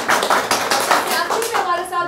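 A studio audience at a Holi poets' gathering gives a brief, lively burst of clapping for about two seconds, with a voice rising over it toward the end.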